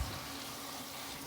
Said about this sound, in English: I'm going to turn on ice cold water